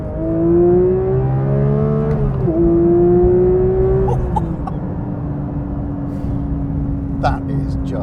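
A 2022 Porsche 911 GT3 Touring (992) engine revs up toward 9,000 RPM, a loud, close howl rising in pitch in a couple of surges before settling into a steadier tone as revs drop.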